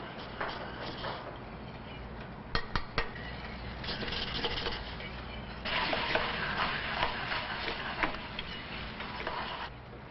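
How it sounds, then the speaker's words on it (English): Egg being moved around an omelet pan on a griddle in a foodservice kitchen: a soft, steady sizzle with scraping and stirring, a few sharp clicks of utensil against pan partway through, heard alone and fairly faint. "there are many methods for moving the egg around in the pan to make an omelet"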